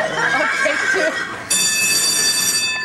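A horse neighs in a studio horse-race effects show, a loud whinny over rumbling rail-like noise, followed by a sustained high metallic tone; close and prominent, without clear talk.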